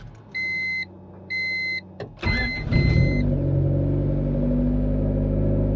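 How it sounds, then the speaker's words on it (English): A turbocharged Honda Civic gives two electronic chimes, then its engine cranks and fires. It settles into a steady, close idle as it warms up. "let's let this thing warm up and go take it for a ride"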